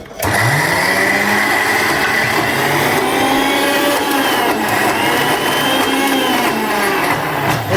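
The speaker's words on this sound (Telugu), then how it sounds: "ఇవైతే మిక్సీ పట్టేద్దామా" A mixer grinder grinds urad dal for vada batter with a loud, steady, high whine that holds almost unbroken for several seconds, with a slight waver in pitch and no voices.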